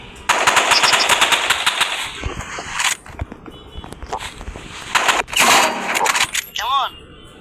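Rapid automatic gunfire in a shooter video game comes in loud bursts, with rattling fire near the start and again in the middle, under excited talk from players.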